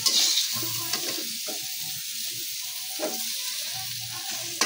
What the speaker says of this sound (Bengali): আলু ওটা আর বেগুন কষানোর মতো মশলার সাথে কষানো, খুব সুন্দর কষানো হয়েছে